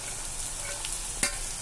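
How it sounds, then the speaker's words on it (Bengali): Fish head with potato and onion frying in a pan gives a quiet, steady sizzle while a spatula stirs and scrapes. A single sharp clink of the spatula comes near the end. "দেখো আমি ভালো করে খুন্তির সাহায্যে গুঁড়ো করে নিয়েছি মাছের মাথাটা"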